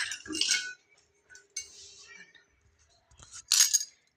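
A metal stand and a bell-metal plate set down inside a pressure cooker while making suji pitha, giving two clusters of bright metallic clinks and clatter, the second sharper near the end, with quieter handling between.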